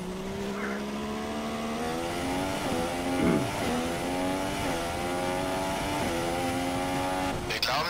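A Formula One race car in the F1 2016 video game slows into the pit lane, its engine note stepping down through falling gears with tire noise, loud and continuous.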